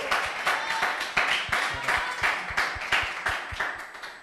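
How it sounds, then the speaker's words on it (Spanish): An audience claps after an a cappella song, fairly close and dense, with uneven rhythmic surges of clapping continuing for several seconds. "Fuerte los aplausos."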